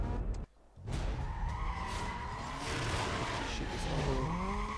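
A Mitsubishi Lancer Evolution in Need for Speed Most Wanted drives hard with screeching tire skids and a revving engine, loud and close throughout after a brief dip at the start.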